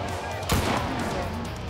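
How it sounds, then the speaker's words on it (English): Gunfire in the first-person shooter Enlisted in a zombie survival mode, with a single loud shot midway over steady background game sound. "Shooting still feels pretty good."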